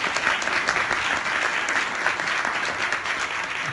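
Audience at a biomedical device summit conference applauds, steady dense clapping from a sizable crowd that holds evenly throughout, close and loud with no speech over it.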